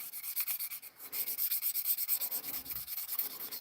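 Close, rhythmic back-and-forth sanding strokes on a hard carving knife handle, loud and regular with brief pauses.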